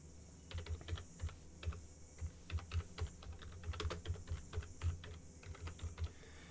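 Fingers tap out a quick, uneven run of keystrokes on a computer keyboard, close and fairly quiet, with brief pauses between bursts and no talking.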